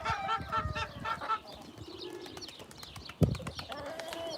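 Young chickens and a rooster, including a lame rooster raised from a chick, give soft cooing and clucking calls in close, repeated bursts, with one sharp knock partway through.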